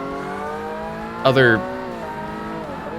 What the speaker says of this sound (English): I think that actually is the same engine note